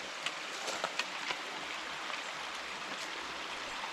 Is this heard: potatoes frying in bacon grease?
no